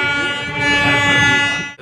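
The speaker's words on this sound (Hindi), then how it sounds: "कैथल से चल पड़ी है अपनी ट्रेन" A train pulls away from Kaithal station in Haryana, India, its loud horn sounding steadily with rich tones over the rumble of moving cars, the blast continuing almost without a break before cutting off abruptly.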